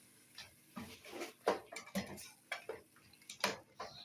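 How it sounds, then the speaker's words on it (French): A spoon stirring Doro stew in a cooking pot, with a series of light clinks and scrapes against the metal coming in an uneven rhythm, close and fairly quiet, with no talking. "Je mélange très bien."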